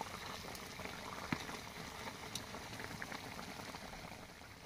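Laing, taro leaves cooked in coconut milk, simmers in a pan with a soft, steady bubbling and occasional small pops, close and quiet.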